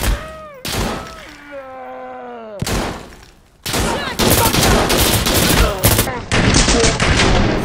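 A tense firefight in the shooter Insurgency Sandstorm: loud, dense automatic gunfire and rapid shots erupt after a quieter stretch with a groaning voice, continuing without pause to the end.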